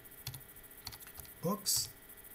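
Typing on a computer keyboard, a few close, sharp key clicks spaced unevenly, with a brief voice sound in the middle.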